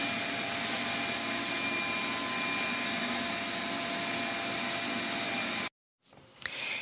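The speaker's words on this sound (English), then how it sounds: "I'm just going to take my broom, sweep up the floor, and use the shop vac and the shovel" A shop vac runs loud and steady as it vacuums a concrete slab being prepped for wood flooring, a constant broadband roar that cuts off sharply near the end, followed by brief clatter.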